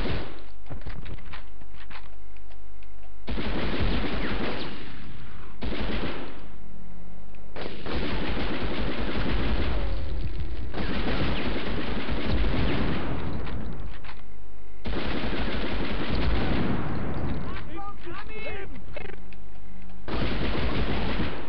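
Submachine gun fire in the PS1 Medal of Honor game: repeated loud bursts of rapid automatic shots separated by short pauses, with no talking.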